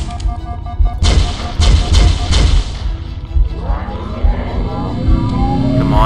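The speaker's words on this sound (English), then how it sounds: "Really a rocket launcher!" Rocket launcher shots boom loudly in Halo SPV3, three heavy blasts close together with trailing rumble and debris, followed by ongoing combat noise.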